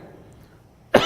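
A single sharp cough bursts out at the end of a quiet indoor stretch during a lecture, close and loud against faint room noise.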